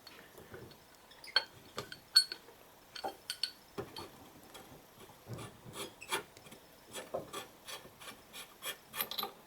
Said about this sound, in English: You're going to unscrew this cup here.